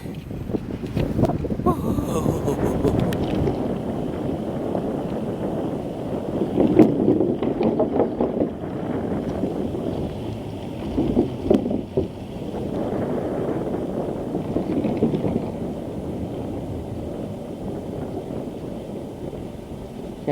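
Strong wind buffets the microphone during a bike ride along the Atlantic City boardwalk, a constant loud rumbling roar with gusty surges, plus faint rattling from the bumpy boards.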